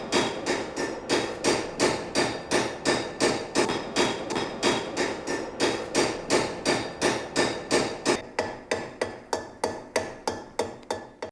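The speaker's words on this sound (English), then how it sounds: "He first uses a planishing hammer to flatten the surface" A craftsman hammers a copper box body on a domed anvil with a planishing hammer, a close, loud, evenly paced series of about thirty sharp metallic strikes with no talk.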